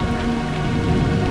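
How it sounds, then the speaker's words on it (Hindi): Heavy cartoon rain pours down in a cold-season downpour, a dense, steady hiss of drops drumming loudly and continuously with no voices. "ये वर्षा कई दिनों तक चलती है"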